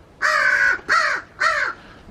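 Three loud, harsh crow-like caws ring out in an even rhythm close by from birds in a newly built aviary, with no talking.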